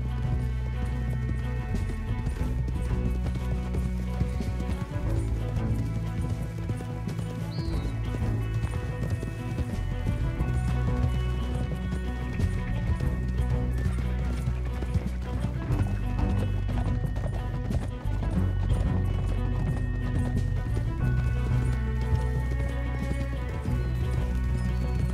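Horses galloping in Red Dead Redemption 2, dense continuous hoofbeats pounding close and loud for the whole stretch over a rumbling game soundtrack, with an occasional whinny.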